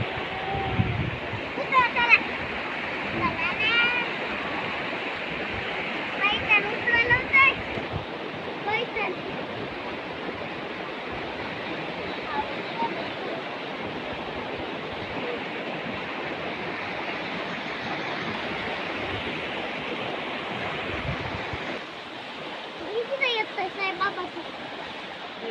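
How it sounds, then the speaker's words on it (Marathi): Stream swollen after several days of monsoon rain, flowing and splashing steadily at a moderate distance, with people talking intermittently over it. "भरपूर पाणी आलं. याच्या 5-7 दिवसात पाऊस पडल्यामुळं."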